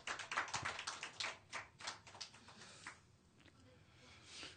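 A church congregation gives an encouraging round of applause for Sunday school students, with many hands clapping in a rapid cluster that thins out and fades over a few seconds.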